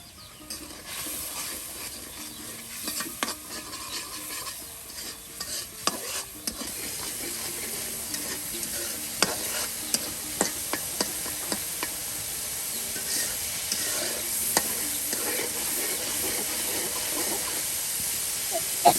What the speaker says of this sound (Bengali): দেখুন একদম ভালো করে কষিয়ে একটা সুন্দর মশলা তৈরি করা হলো